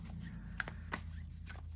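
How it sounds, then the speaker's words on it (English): A deck of Sakura tarot cards being shuffled by hand, with soft riffling and brief crisp flicks over a low steady hum, close and quiet. "But see how lovely they shuffle?"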